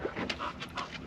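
A dog aboard a sailboat anchored off Trestles Beach pants in quick, close breaths, a short rhythmic run of huffs with a faint open-air background.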